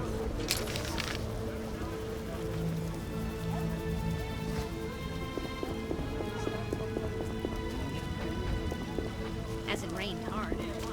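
Steady rain falls in The Witcher game, a dense even hiss of drops on surfaces filling the whole scene, with background music tones and scattered footfall-like knocks underneath.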